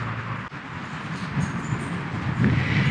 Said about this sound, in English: while Martin's driving his train